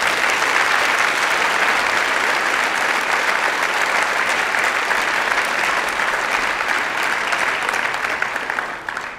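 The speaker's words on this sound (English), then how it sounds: "So if we can give them a big round of applause." Audience applause at a fifth grade school concert, a dense, steady wash of clapping that holds loud for about nine seconds before starting to thin out at the very end.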